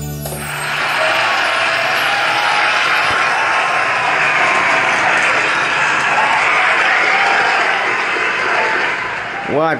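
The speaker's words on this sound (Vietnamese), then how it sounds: "vỗ tay mà vỗ tay là do nhạc thôi anh em ơi" Dense, sustained applause from a crowd within a recording played back through a Realistic Mach One speaker with a 40 cm bass driver and horn mid and treble, steady and loud for nearly ten seconds before fading.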